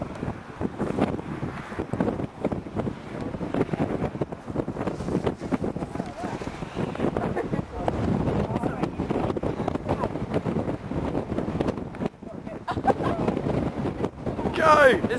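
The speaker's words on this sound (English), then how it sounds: "It's really windy!" Strong wind buffets the microphone at a power kiting spot in high winds, a steady, loud broadband roar lasting the whole stretch, with people talking and shouting over it.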